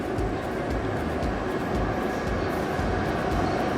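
A passing train gives a steady, loud rumble with a continuous broad roar throughout. No one speaks.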